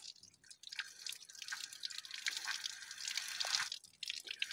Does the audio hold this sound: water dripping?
yes